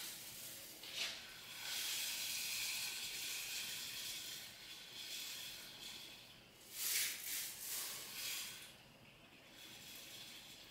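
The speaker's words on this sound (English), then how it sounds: "I'm about to put the rice in the boiling water." Rice poured into a pot of boiling water while cooking, giving a steady soft hiss and bubbling with brief louder surges near the start and around the middle, no voices.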